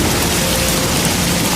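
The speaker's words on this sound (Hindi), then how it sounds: "बारिश तेज हो गई।" Heavy rain pours in a dense, continuous roar, loud and close, with no voices.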